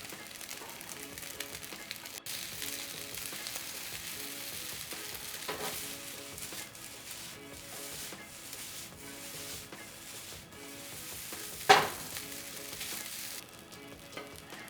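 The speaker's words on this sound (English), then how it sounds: "I'm just going to toss these into the pan" Chopped green onions sizzle in a frying pan for fried rice, a soft continuous crackle with occasional faint scrapes and one sharper clatter, fairly quiet.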